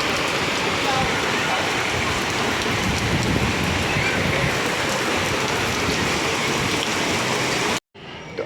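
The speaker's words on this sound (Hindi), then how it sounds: "इतनी तेज़ बारिश हो रही है," Heavy monsoon rain pours down steadily at a home, a dense close hiss of water hitting surfaces that continues without a break until it cuts off near the end.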